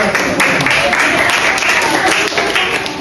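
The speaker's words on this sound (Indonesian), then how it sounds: "Kasih tepuk tangan dulu" An audience at a business seminar in Bogor claps for a young culinary entrepreneur, a steady, full wash of applause lasting the whole three seconds with faint voices beneath it.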